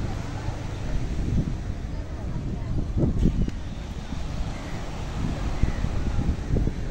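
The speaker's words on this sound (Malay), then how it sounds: "Dia menghadap laut. Angin." Seaside wind at Padang Kota, Penang on an evening, a steady rough blustering roar buffeting the microphone with low gusts throughout, while a person speaks under it.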